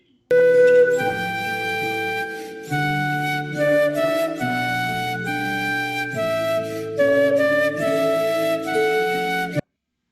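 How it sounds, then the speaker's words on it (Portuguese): A flute melody plays on its own, clear sustained notes stepping through a tune over steady accompaniment, with short gaps between phrases. "Esse é o som da flauta."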